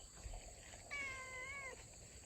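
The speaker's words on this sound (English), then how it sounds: "somebody dumped another animal, beautiful young female cat" A young female cat gives a single drawn-out, wavering meow outdoors on a farm, faint and at some distance over soft background hiss.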